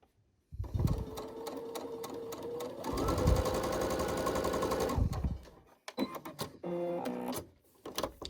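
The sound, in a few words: sewing machine sewing a facemask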